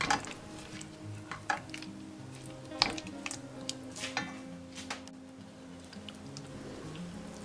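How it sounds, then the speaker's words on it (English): Gelatin is stirred into a warm mixture in a pot taken off the stove, a spoon clinking and scraping against the metal in irregular taps and strokes, fairly close and quiet. "Stir in the gelatin."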